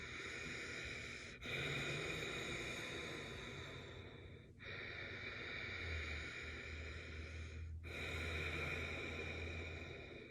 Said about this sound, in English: The Ujjayi breath in through the nose.